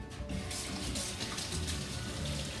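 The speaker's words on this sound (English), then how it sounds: "you need to give your hands a rinse to get the shaving cream off" Tap water runs steadily into a sink as shaving cream is rinsed off hands, a continuous close splashing wash with no talk.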